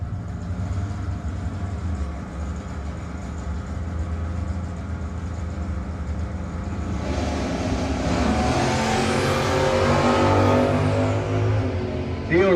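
A 1983 Camaro in a drag race at a no-box 660 shootout, a loud continuous engine roar that idles rough and then climbs sharply in pitch as it revs and launches, close and dominant.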